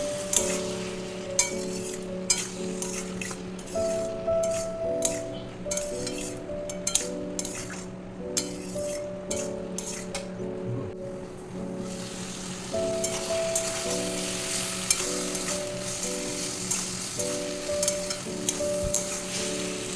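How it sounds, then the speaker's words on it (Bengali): Yardlong beans sautéing with spices in a pan give a steady close sizzle, broken by frequent clinks and scrapes of a stirring utensil against the metal, with no talking. "বরবটিটা আবার এই মশলার সাথে এক দু মিনিট আমি একটু কষে নেবো"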